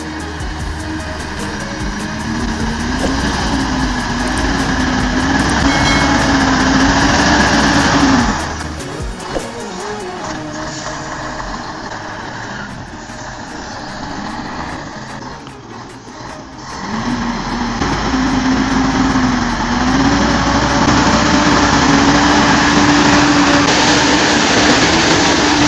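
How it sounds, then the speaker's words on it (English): A Mercedes 3836S logging truck hauls huge logs through forest terrain, its engine droning loudly with shifting pitch, dropping away briefly in the middle before laboring back up under load. "The Mercy 3836S engine is not only powerful but also durable, allowing it to pull huge logs through difficult terrain."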